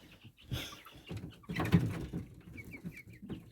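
Young chicks in an unheated room, short peeping and clucking calls in a few bursts, fairly close and moderately loud, with quiet gaps between.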